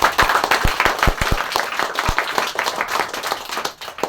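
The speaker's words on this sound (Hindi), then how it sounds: "सर्वपल्ली राधा कृष्णन जी के नाम पे एक बार ताली होनी चाहिए।" Clapping at a Teacher's Day speech event, opening with loud, close individual claps in an uneven rhythm, then blending into a fuller round of applause from a group.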